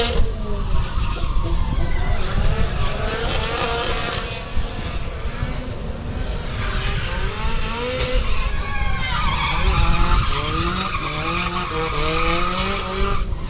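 A Nissan S14 drift car skids through a qualifying run at a drift park, engine revs rising and falling with tire squeal, loud and continuous with pitch sweeps as it works the course.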